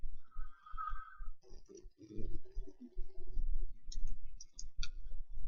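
A computer mouse clicks while a 3D chair model is edited in 3ds Max, giving several quick, close clicks scattered among other soft desk sounds.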